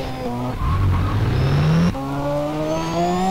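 Car engine in GTA San Andreas revving up with rising pitch, a gear change near the two-second mark, then climbing again as the vehicle accelerates through the gears, loud and continuous with a brief tire squeal.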